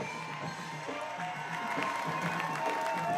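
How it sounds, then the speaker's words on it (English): A crowd at a firefighters parade at an apple blossom festival cheers and claps, a steady wash of distant shouts and applause with scattered whoops throughout. "And the crowd goes wild."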